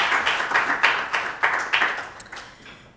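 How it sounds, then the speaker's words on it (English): Audience applauding a speaker at a book launch evening, with a few distinct rhythmic bursts of clapping that swell and then thin out toward the end. "a round of applause for Mr."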